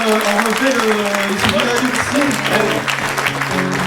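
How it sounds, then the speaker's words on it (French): An audience applauds performers at a community stage show, with clapping under and around voices speaking and calling out over it throughout. "On les applaudit encore une fois"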